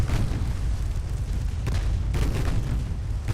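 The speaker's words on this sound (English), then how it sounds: "Torpedo detonation." A deep torpedo detonation in the naval warfare game Ultimate Admiral: Dreadnoughts, a loud rumbling blast that blends into a dense, continuous roar of battle noise.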